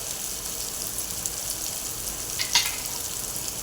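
Red chili powder and turmeric sautéing in oil over a cooked masala paste for a spicy matki usal, a steady close sizzle with a brief scrape of stirring near the middle.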